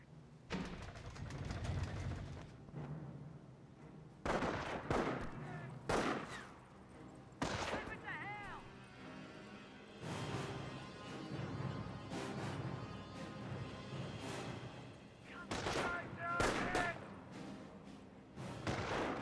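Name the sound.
gunfire in the video game Company of Heroes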